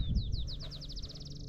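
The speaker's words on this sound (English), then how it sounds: "there it goes, the black-chinned sparrow." A black-chinned sparrow sings a rapid series of rising high whistles that speed up into a trill, heard clearly over a low background rumble.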